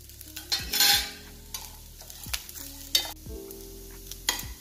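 Grated coconut and roasted gram sauté in a pan for white kurma, a low sizzle under repeated sharp spatula scrapes and taps against the metal, spaced irregularly and heard up close without speech.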